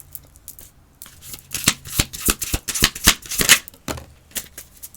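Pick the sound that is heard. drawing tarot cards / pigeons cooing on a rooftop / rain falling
drawing tarot cards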